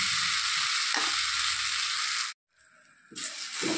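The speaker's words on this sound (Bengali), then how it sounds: "4 থেকে 5 মিনিট আমি এটাকে এভাবে ভালো করে ভেজে নেব।" Raw banana peel frying in a pan, a loud, continuous sizzle that cuts out abruptly for a moment, then returns with stirring scrapes and clinks before the hiss builds again.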